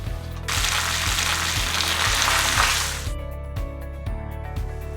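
Cashews sizzling and frying in hot ghee for ven pongal, a broad loud hiss that runs steadily for about three seconds and then cuts off, leaving softer clinks and taps of a utensil against the pan.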